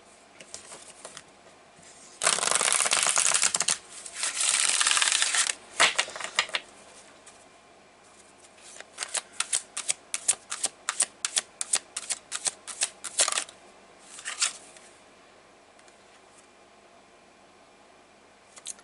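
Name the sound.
shuffling Power to Surrender oracle cards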